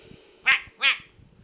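A human voice imitates a duck with two short, nasal quacks in quick succession, heard alone and close up.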